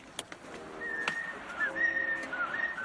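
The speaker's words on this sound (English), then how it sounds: "The idea of the inmates whistling Mozart back to Lex Luthor" Several people whistle a Mozart tune, with sustained notes drifting across a noisy room background and a few sharp knocks early on.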